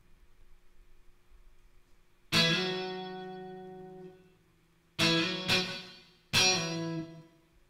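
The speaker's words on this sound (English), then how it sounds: "I've also added reverb on this pop guitar." Pop guitar played through a reverb effect: a sustained strum that rings out with a long hazy tail, then three more strums in quick succession, each leaving an echoing wash, with no voices.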